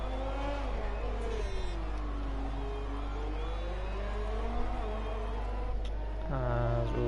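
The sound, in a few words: race car engine on a lap, from a video game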